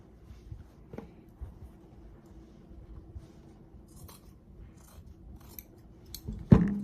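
Scissors cut fabric for a sewn eye mask, giving faint, close snips and rustles across the clip, then one louder, sharp snip at the very end, with no talking.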